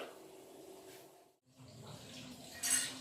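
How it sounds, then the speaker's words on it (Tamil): Small ayirai fish being rinsed by hand in water, a steady splashing and trickling that pauses briefly midway, then resumes with a louder wet slosh near the end. "வாங்க மீனை கழுவிட்டு வந்துடலாம்."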